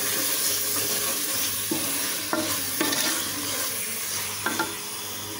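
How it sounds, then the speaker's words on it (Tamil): Lemon-marinated chicken for biryani sautéing in a pan, with a steady close sizzle and several sharp clinks and scrapes of a spoon stirring at irregular intervals. "சிக்கனை கொஞ்சம் நேரம் நல்லா வதக்கிக்கலாம்."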